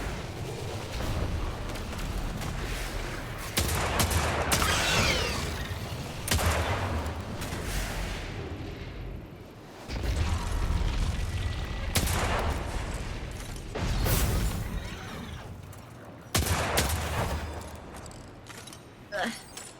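Bursts of gunfire from the video game Destiny, several rapid volleys separated by short pauses, loud and close, with a voice talking in between.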